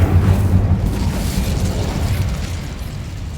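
The Incendio fire spell cast in Hogwarts Legacy, a loud booming burst of flame that rolls on as a dense, roaring rumble and slowly fades over a few seconds, with no voice.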